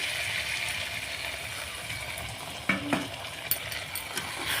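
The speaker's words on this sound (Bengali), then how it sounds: "সেই গরম জলটা আমি মাংসে দিয়ে দিলাম" Meat curry sizzles and bubbles in a hot pot as hot water is poured in, a steady frying hiss with a few sharp spits and clatters near the end.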